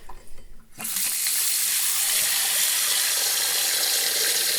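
A bathroom tap switches on with a click and water pours steadily into a sink, a loud continuous hiss and splash that runs unbroken to the end.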